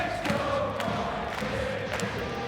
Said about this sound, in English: the Outlaws cheering is being captured for eternity